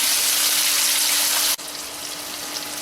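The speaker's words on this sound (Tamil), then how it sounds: "தக்காளி பழத்தையும் சேர்த்துக்கோங்க. நல்லா வதங்கட்டும்." Tomatoes added to hot oil while making fenugreek tamarind kuzhambu sizzle and hiss loudly and steadily, then the frying noise drops abruptly to a softer, continuous sizzle, with no one talking.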